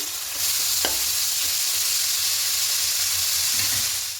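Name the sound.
vegetables frying and being stirred for fried rice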